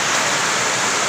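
Heavy rain in a village in Palompon, Leyte, pours down as a dense, loud, unbroken hiss, steady from start to finish with no voices.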